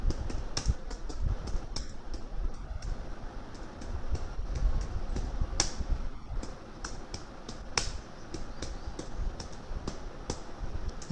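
Code typed on a computer keyboard, a steady stream of close clicking keystrokes with a few sharper louder key hits and no talking.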